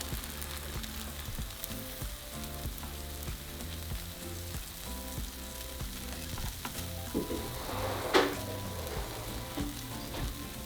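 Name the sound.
tortilla heating on a comal over medium heat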